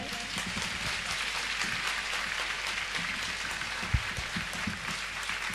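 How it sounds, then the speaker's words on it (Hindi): Dense, continuous crowd clapping during a Jain Siddhachakra Mahamandal Vidhan ritual, a steady roar of many hands with no pauses and one brief thump near the end. "ताली बजाएं।"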